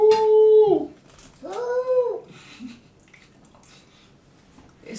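A puppy gives two close, loud whining howls in quick succession, the first steady and the second bending up and down, followed by quiet room noise.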